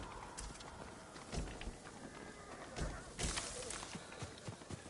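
Horse hooves in the Ghost of Tsushima video game, irregular thudding clip-clops at a quick pace, moderately close, over a faint ambient bed with some background murmur.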